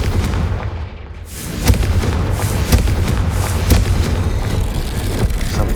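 Confringo blasting spells explode in Hogwarts Legacy, a run of loud booming blasts that land roughly once a second after a brief lull, close and heavy over a rumbling game background.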